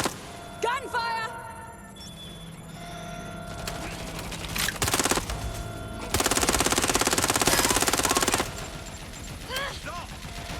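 Gunfire in the video game Watch Dogs: Legion, with several sharp bursts and a sustained automatic volley lasting about two seconds, loud against game ambience, electronic tones and chirps.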